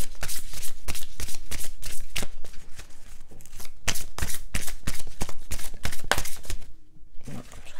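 An oracle card deck shuffled and handled up close, dense rapid crisp card snaps and riffles in a steady flurry, loud and continuous, with a short silent gap before a final rustle.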